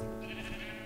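Sheep bleating in the Minecraft video game, a short bleat standing out over a steady background hum of game sound.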